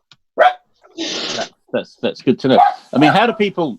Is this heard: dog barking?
yes